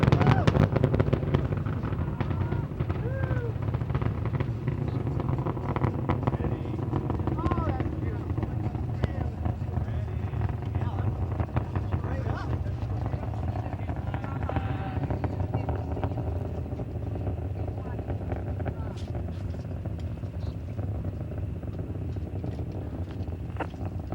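Space Shuttle Endeavour's engines roar during the STS-47 launch as they throttle down before maximum dynamic pressure, a sustained low rumble heard from afar with radio voices talking over it throughout.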